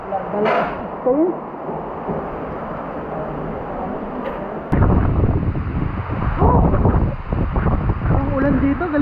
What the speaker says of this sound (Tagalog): Ang ulan dito, galit na galit.